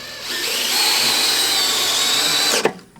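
A power drill drives a long screw into a trailer's rim joist in one continuous, close, loud whirring run of about two and a half seconds, ending in a sharp clack as it stops.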